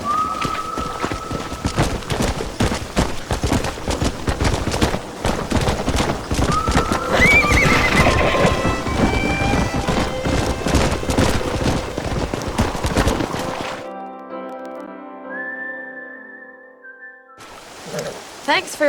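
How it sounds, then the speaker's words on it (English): Horses in the Red Dead Redemption game neigh and whinny over brisk clip-clopping hooves, loud and close, with game effects and a whistle-like tone mixed in, ending with a short quieter stretch. "We got some fine horses."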